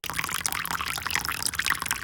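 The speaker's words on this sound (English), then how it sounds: "So you just get a little bit of water in there just to get the seasonings out." Water pours in a splashy, bubbling trickle into a paper seasoning envelope while making a loaded potato crock pot dish, close and steady for about two seconds.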